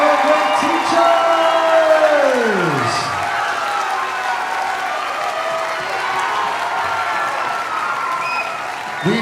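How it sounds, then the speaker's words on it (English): Audience applause for orchestra teachers at an All-City Orchestra concert: loud, sustained clapping from a large crowd fills the hall. A descending musical tone fades out early on. "Hold the applause, Paul."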